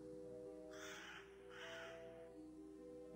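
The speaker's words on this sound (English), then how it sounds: "Want some corn, Mr. Crow?" In the Scooby Doo Haunted House video game, a crow gives two harsh caws a short gap apart over a steady electronic background hum.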